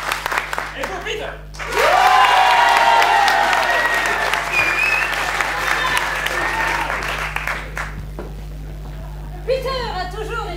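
Audience applause and cheering at an improv theatre show during a festival in Toulouse, a loud sustained burst of clapping and shouts lasting several seconds, with brief talk and quieter stretches before and after.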